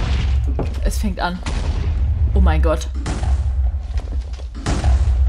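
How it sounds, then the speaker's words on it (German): Explosions in a Minecraft prison-break game, with several deep booms and thuds going off in quick succession at moderate loudness while an excited voice talks over them. "Freunde, da draußen explodiert was."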